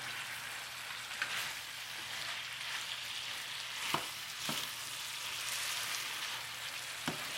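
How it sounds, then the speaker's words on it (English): Vegetables sizzle and fry in a pan for Chinese soy sauce spare ribs, a steady, fairly quiet crackle with a few sharper pops and stirring clicks scattered throughout. "So cook the vegetable down a little bit."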